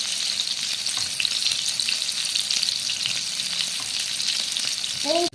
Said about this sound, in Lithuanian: Kepa mėsytę.